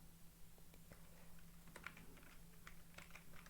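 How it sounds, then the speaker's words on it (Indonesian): A computer keyboard is typed on to enter a command, giving quick, uneven clicking keystrokes that come close together and sound faint and close, with no voices. "Kita akan mengetikkan perintah cat"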